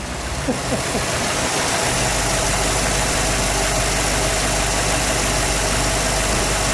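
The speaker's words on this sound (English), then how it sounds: "And we'll just let it idle for a minute." A 1957 Chrysler New Yorker convertible idles close by with a steady, even, low rumble that runs unbroken throughout, and nobody speaks.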